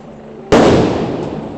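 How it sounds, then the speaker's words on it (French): A police dispersal grenade explodes in a sudden loud, violent blast that cuts through quieter background noise, followed by a long rumbling, crackling tail that slowly fades without dying away. "à nouveau des grenades de désencerclement utilisées"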